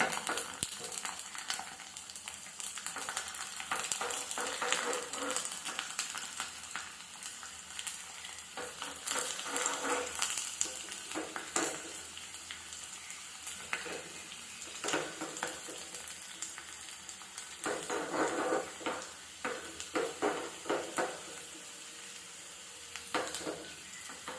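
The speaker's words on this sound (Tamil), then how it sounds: "பூண்டு நல்லா செவந்துருச்சு" Garlic frying in a pan for a Tamil paruppu sundakkai masiyal, a continuous oily sizzle with bursts of crackling and spatter, rising and falling in waves over a long stretch, close by and without speech.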